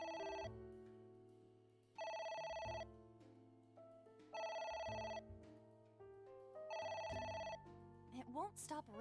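An in-game telephone in the adventure game AI: The Somnium Files rings in four bursts of loud, bright, trilling electronic bells with short pauses between, ending in a few rising chirps.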